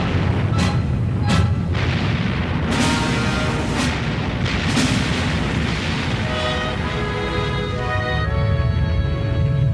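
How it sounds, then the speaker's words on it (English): USS Missouri battleship guns firing during a shore bombardment: a run of heavy booming blasts over a dense, continuous rumble, with the sharpest reports coming early on. "she serves with distinction in shore bombardment missions"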